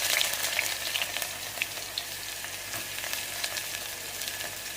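Sliced onions, curry leaves and garlic sizzle and crackle in hot oil in a pan, a steady close frying hiss with scattered pops and light stirring, no voices.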